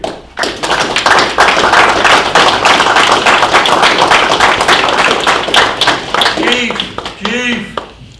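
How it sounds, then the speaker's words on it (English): At a city council meeting, people clap loudly for the police chief, close and dense, thinning near the end as voices begin speaking. "Another round of applause for the chief."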